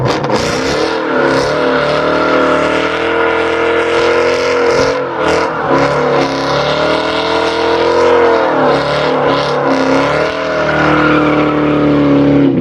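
A car holds a loud, sustained burnout, engine revving hard while the tires squeal continuously up close, the pitch wavering as throttle shifts.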